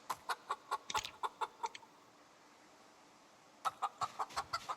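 A chicken in Project Zomboid clucks in quick, close bursts of sharp repeated notes, then falls quiet before another rapid run of clucks.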